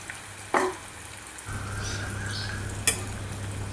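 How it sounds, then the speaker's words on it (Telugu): Sliced onions frying in hot oil for chicken biryani, a steady soft sizzle throughout with a couple of brief clinks of a utensil against the pan. "ఆయిల్ కాగిన తర్వాత ఆయిల్లో వేసుకొని గోల్డెన్ రంగు వచ్చే వరకు వేపుకోవాలి."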